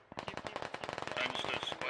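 Gunfire in the military shooter game Squad during an organized one-life operation: rapid automatic bursts in a dense rattling stream, close and loud, with a voice over the shots.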